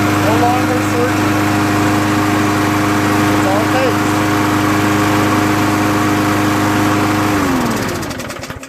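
A Murray 20-inch push lawn mower with a 4HP Briggs engine and a freshly cleaned carburetor runs at a steady, even drone without surging, loud and close, then begins to wind down at the very end.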